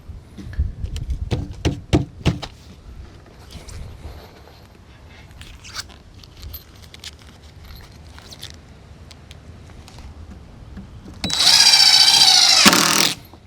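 Power drill driving screws into wooden raised bed planter boards: a few quick knocks and rattles at first, then after a quiet stretch one loud, close whirring burst of the drill motor near the end.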